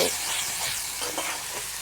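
Spices and a splash of water sizzle in a pan with fried tomato for a fish curry, giving a steady close hiss that runs through the whole moment with a brief sharper burst near the end.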